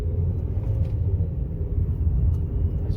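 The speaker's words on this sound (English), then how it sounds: "As you can hear, there is no more noise. The car is just running like new." A 1999–2007 Ford Focus engine idles after an engine mount repair, giving a smooth, steady low rumble with no knocking or clunks, heard close from inside the car.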